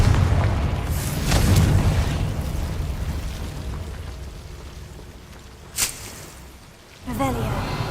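A Confringo fire spell explodes in the Hogwarts Legacy video game: a deep booming blast with a rumbling tail, then a sharp pop and a final burst near the end.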